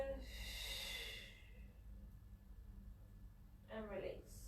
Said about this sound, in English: Exhale to tighten. Inhale to release.